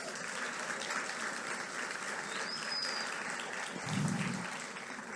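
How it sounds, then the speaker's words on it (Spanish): A church congregation applauds steadily with dense, continuous clapping that holds at an even level throughout, with a brief low thump near the end. "denle un aplauso a Dios"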